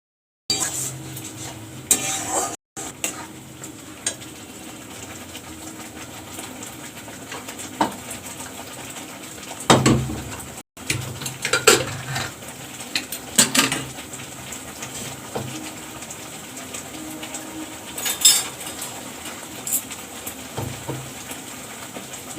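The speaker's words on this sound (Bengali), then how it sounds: "এবারে ভালো করে মশলাটাকে নিয়ে নেবে একটু ভালো করে কষিয়ে নেবো" Chopped capsicum and spice masala stir-fried in a pan for a mutton dish, a quiet sizzle under intermittent scraping and clattering of a spatula against the metal.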